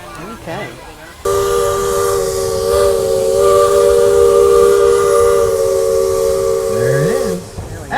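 Loud, sustained steam whistle from a Roaring Camp narrow-gauge steam train, blown as a long steady chord for about six seconds over a hissing, rumbling background, with brief talk before it begins.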